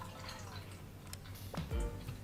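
Milk is poured into a saucepan on a stovetop at medium heat, a short close liquid trickle that ends in a brief gurgling splash.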